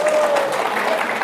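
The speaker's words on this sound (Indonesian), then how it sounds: "Tepuk tangan dulu." Audience applause at an Indonesian community gathering, a dense steady patter of many hands clapping together, loud and close, filling the whole short stretch without a break.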